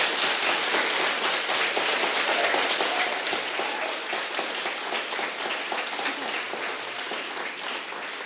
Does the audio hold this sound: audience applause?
yes